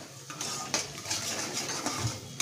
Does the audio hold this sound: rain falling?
no